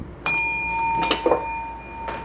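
A hand bell rung to call people to a light summer dinner: a bright ding at the start, then a second cluster of ringing strokes, with long sustained tones hanging through the clip.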